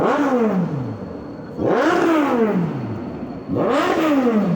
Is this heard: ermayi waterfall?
no